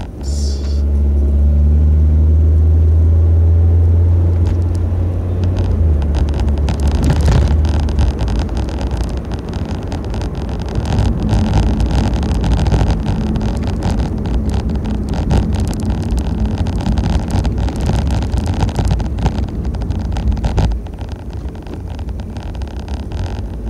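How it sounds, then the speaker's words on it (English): A car merging onto the freeway in traffic gives a continuous, loud road and engine rumble mixed with wind noise that holds steady throughout, with no talking. "This is the fun part of driving home. It's merging onto the freeway and trying to get across 2 lanes in traffic."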